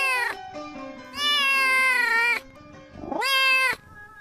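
A cat meows several times as an eerie sound effect in a horror story about mountain climbers on Gede Pangrango, long drawn-out, tonal wails, close and clear with quiet gaps between them.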